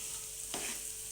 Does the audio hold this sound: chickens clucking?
no